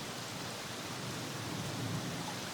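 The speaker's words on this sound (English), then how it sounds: "Also added some more foley, which is some rain sounds I recorded by myself" Self-recorded rain used as foley texture in music production, a dense, even hiss of falling rain with a low rumbling bed, quiet and continuous without any other sounds.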